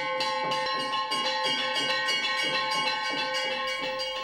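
Metal bells ring continuously at a Hindu ritual for Shiva, with a fast, steady clanging rhythm and a dense shimmering tone, loud and close with no voices.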